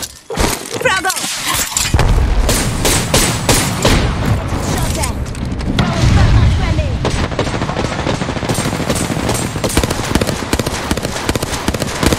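Rapid bursts of automatic gunfire in a squad-based battle royale video game, loud and dense with rattling volleys and sharp impacts running almost continuously, mixed with other game effects.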